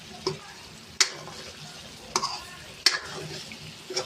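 Potato pieces sizzle in hot spiced oil in a wok for the street-style bhungla batata, with a steady frying hiss punctuated by four or five sharp scraping knocks as they are stirred.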